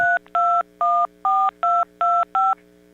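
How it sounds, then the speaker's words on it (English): Touch-tone telephone keypad dialing, seven crisp two-pitch beeps in quick, slightly uneven succession over a faint steady hum, loud and close with no voices. "Those are touch tones."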